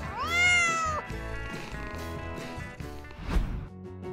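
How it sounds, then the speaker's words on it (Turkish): A kitten meows with a long, rising and falling cry near the start, followed by softer, shorter mews and some small knocks in a quiet indoor room. "Bir kedicikle oynama zamanı."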